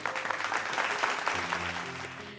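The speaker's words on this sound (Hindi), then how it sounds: "तो भैया जोरदार तालियों से स्वागत करी" A crowd at a folk music show claps to welcome the musicians, dense applause with scattered sharp hand claps while faint sustained instrument tones run underneath.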